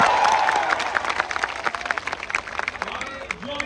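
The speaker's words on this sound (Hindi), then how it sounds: "एक बार जोरदार ताली बजाओ।" A crowd of students at a large public gathering breaks into loud applause, dense clapping that becomes more scattered with individual claps toward the end, with some voices mixed in.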